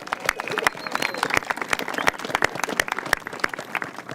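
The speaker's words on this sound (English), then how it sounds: "I think a round of applause." An audience at a Balboa Park centennial lighting event applauds city park staff, dense close clapping throughout with some crowd murmur mixed in.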